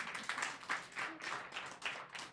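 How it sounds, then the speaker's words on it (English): Audience applause at an African scholars awards ceremony, a moderately quiet, rippling crowd of claps with uneven bursts and no voices over it. "Let's get her another round of applause like we mean it."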